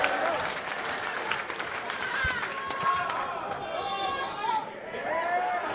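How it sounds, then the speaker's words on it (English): An indoor pro wrestling crowd claps and cheers in a dense, rising wave, trying to rally a fallen wrestler, with chatter and shouts mixed throughout and a commentator's voice under the noise. "The crowd trying to rally Willow back to her feet"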